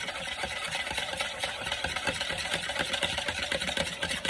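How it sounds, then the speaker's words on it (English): A spoon stirs the marinade for baked sweet-and-sour chicken in a bowl, giving a steady, continuous scraping and swishing at close range. A mechanical hum runs underneath, and no voices are heard. "Stir it up."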